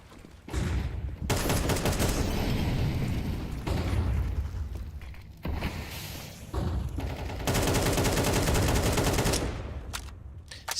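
Counter-Strike gunfire sprayed through smoke toward E-Box in an ESL Challenger League match: dense, loud bursts of rapid shots with booming impacts, nearly continuous over several seconds, with brief gaps between volleys.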